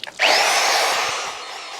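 A power drill whirs up sharply after a couple of clicks, with garden hose water running around it while working on a steel boat hull below the waterline, then spins steadily at close range and winds down slightly.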